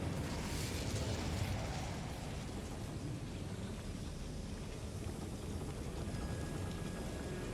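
Incendio fire spell cast in Hogwarts Legacy, a broad roaring whoosh of flame that flares up loudly and then burns on as a steady rushing, crackling rumble.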